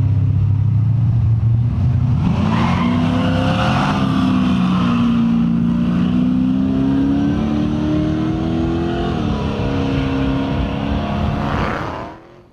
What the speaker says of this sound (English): cars are actually racing on Woodward behind me